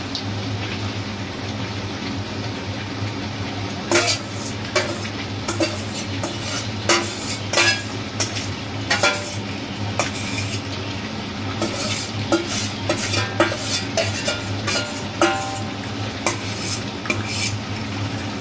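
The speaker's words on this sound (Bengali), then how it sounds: "আলু আর মাংস একসাথে কষিয়ে নেব" Potatoes and meat being sautéed together in a pan, with a steady low sizzle under repeated scraping and clinking strokes of a spoon against metal, loud and close.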